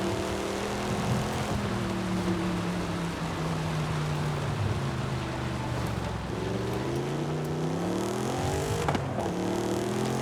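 Engine of a new car in Forza Horizon 5 on PS5 roars steadily with layered harmonic tones that rise and fall as it shifts and accelerates, loud and continuous with faint wind noise and no talk.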